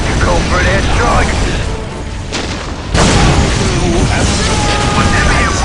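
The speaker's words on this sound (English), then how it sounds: "You call for an airstrike." Airstrike explosions in Warhammer 40k Dawn of War Soulstorm, a loud sustained rumble with a sharp renewed blast about halfway through, under dense battle noise and voices.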